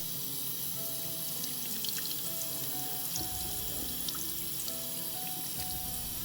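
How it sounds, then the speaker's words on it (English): Tap water runs steadily into a sink while a 1994 Cut n' Style Barbie doll's hair is rinsed under it, giving a continuous hiss with light splashing and trickling and no voices. "We'll thoroughly rinse her hair now with both cold and hot water"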